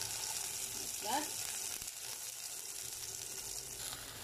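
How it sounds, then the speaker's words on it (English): Tomatoes fry in oil in a pan with a steady, fairly quiet sizzle, and a brief voice-like sound cuts in once near the start. "now we cook our tomatoes too"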